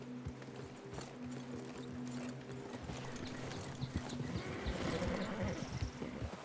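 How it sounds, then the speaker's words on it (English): Horses in the video game Red Dead Redemption 2, hooves clip-clopping steadily with a whinny and jingling tack, fairly close and continuous, growing busier toward the end as riders set off for a train robbery. "Get your horses ready."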